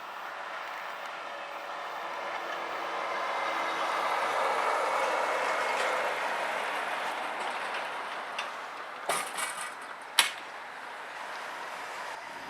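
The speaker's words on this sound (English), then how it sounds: "the freight train heads to the unoccupied track to drop off its train" A freight train rolls along dual gauge track at Ems Werk toward an unoccupied siding, a steady, moderately distant rumble with a few sharp clanks near the end.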